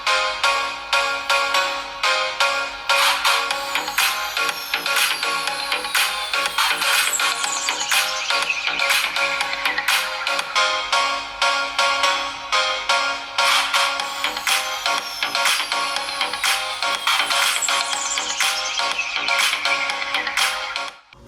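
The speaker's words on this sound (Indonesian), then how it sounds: "Untuk hasil keluaran speakernya, silahkan kalian nilai juga deh." A bright electronic ringtone melody plays loudly and continuously through the speakers of a Redmi Note 10 Pro and a Poco X3 Pro in a side-by-side speaker test. Repeating chimes and synth notes run for about twenty seconds before ending abruptly.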